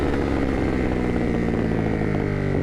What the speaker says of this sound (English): The Terminioni exhaust is an extra. It's been added onto this bike together with the remap, and it's got a lot of pops and crackles.